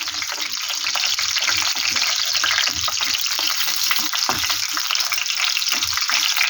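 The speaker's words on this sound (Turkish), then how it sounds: "Mantıları kızartmak da güzel." Mantı dumplings frying in sunflower oil in a restaurant kitchen in Ankara, a steady loud sizzle and crackle of hot oil running throughout with occasional stirring sounds.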